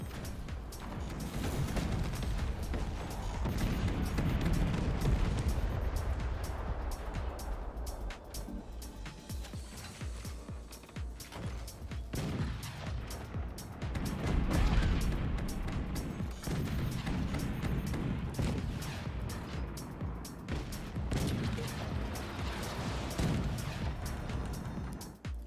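Battleship cannons firing in the physics strategy game Forts, repeated booming shots and impacts spread irregularly across a continuous rumbling, fairly faint overall, with no talk.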